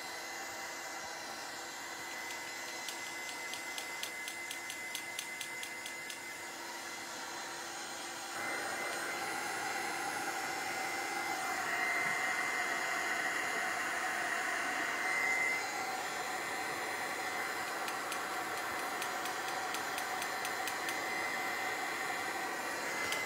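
A heat tool drying gesso on a metal frame gives a steady, airy hair-dryer-like whoosh that grows louder partway through and then holds, with no voices.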